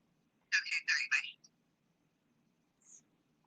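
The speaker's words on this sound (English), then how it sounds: "So Vivian got a phone call from the boss" A telephone rings for an incoming call, giving a quick cluster of three or four close electronic trill bursts followed by one brief faint chirp, fairly near against a quiet background.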